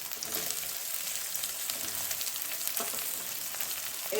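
Onions with yellow, red and green capsicum sauté in a pan, giving a steady soft sizzle close by that holds level throughout and stays alone without speech.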